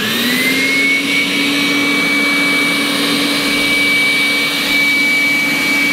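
A Dreame Bot L10 Pro robot vacuum runs in turbo mode, giving a loud, steady motor whine with a high sustained tone over broadband airflow hiss, close and continuous throughout with no talking.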